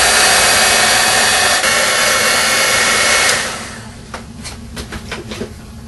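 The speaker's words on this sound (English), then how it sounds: "and then I take my heat gun" Heat gun blowing on a foam flower piece set in a tray, a loud steady roaring hiss for about three seconds that then cuts off, leaving faint rustling and light handling sounds.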